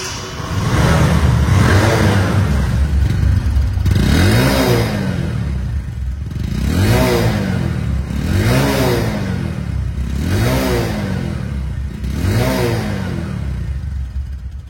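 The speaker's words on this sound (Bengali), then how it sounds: "এখন বলবো বাইকটি সাউন্ড কোয়ালিটি কেমন আছে" A used Bajaj Discover 125cc motorcycle engine revs up repeatedly, rising and falling in about six regular surges while idling steadily between them, loud and close.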